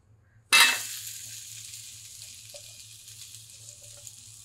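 Amla (Indian gooseberries) drop into hot oil with Kashmiri and Byadgi chili powder, setting off a sudden loud sizzle that settles into a steady frying hiss, with a faint clink of a utensil near the end.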